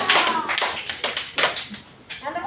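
Pupils in a sixth-grade classroom at SD Negeri 3 Ambengan clap their hands in a loose rhythmic pattern of sharp, close bursts, with a voice speaking between and over the claps.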